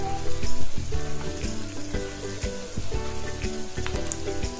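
Chopped capsicum and green chilli sizzle and crackle in hot oil while being stirred for chilli parotta, with a steady close frying hiss and rhythmic scraping strokes of a spoon.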